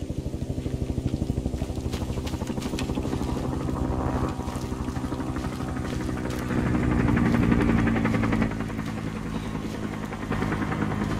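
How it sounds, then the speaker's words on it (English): Helicopter approaching in ARMA 3 SOG, a rhythmic rotor thump and engine drone that swells louder over several seconds amid rain, with no talk. "I hear the chopper coming"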